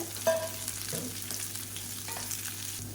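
Finely chopped beans sautéed in oil with onions: a soft, fairly quiet sizzle with a few scraping stirs of a spoon against the pan, close by and without speech.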